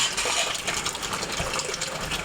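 Rainwater pours and splashes into a plastic bottle with its top cut off, a continuous close gushing trickle without pause.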